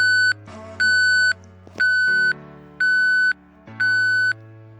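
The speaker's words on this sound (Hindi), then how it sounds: "तो ये बीप वाला इफ़ेक्ट मैंने सेलेक्ट किया।" A beep sound effect from a video editor repeats five times in a regular rhythm, each tone loud and clear, lasting about half a second with equal gaps between.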